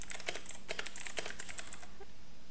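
Rapid typing on a computer keyboard, steady clustered key clicks close to the mic that taper off near the end.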